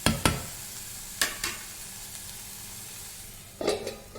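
Garlic chutney ingredients sautéing in a pan, a soft steady sizzle broken by a few sharp stirring clatters at the start, in the middle and near the end, close and quiet with no talk.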